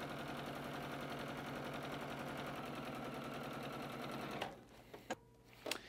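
A sewing machine stitching batik fabric along a drawn line, a steady rapid whir running close and even before it stops, followed by a few sharp clicks and knocks.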